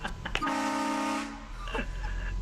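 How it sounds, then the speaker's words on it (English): A train horn fitted to a car sounds one loud, chord-like blast lasting about a second, followed by quieter background noise. "Did yours have a train horn?"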